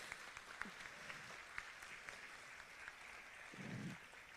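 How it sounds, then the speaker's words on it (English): Audience at a public meeting on an offshore pipeline repair proposal claps in a soft, distant, continuous patter, with a brief voice or murmur near the end. "I just want to give you all a round of applause"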